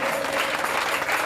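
A church congregation claps loudly and steadily to acclaim Jesus at a year-end evening service, a dense, close wash of applause with no break.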